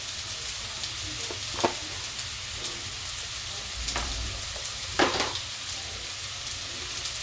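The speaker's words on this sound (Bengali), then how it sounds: "এবার আমি মশলাটাকে ভালো করে কষিয়ে নিচ্ছি।" Spice paste of onion, ginger, green chilli and turmeric sizzles and fries in a pan, a steady close crackle broken by a few sharp scraping stir strokes, with no voices.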